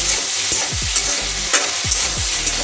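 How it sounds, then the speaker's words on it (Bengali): Tomatoes stir-fried with salt and a little sugar over a high flame for chilli cauliflower, a loud continuous sizzle broken by several quick scraping strokes of a spatula against the pan. "ফ্লেমটা হাইতেই থাকবে এবং কনস্ট্যান্ট নাড়াতে হবে যাতে টমেটোগুলো কুক হয়ে যায় কিন্তু গলবে না"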